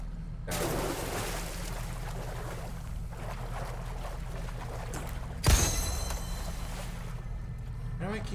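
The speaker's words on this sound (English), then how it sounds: "Why do I keep hearing random splashing?" Water splashes at random in a Resident Evil 4 remake game level, a sudden burst of splashing standing out over a steady low rumble and drone.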